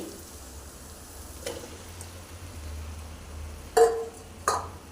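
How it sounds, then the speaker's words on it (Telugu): Chicken frying in oil on a high flame, a quiet steady sizzle broken by a few short sharp clinks and scrapes of utensils against the pan. "ఒక రెండు నిమిషాల పాటు ఇది హై ఫ్లేమ్లో చికెన్ అనేది మనం ఫ్రై చేసుకుందామండి"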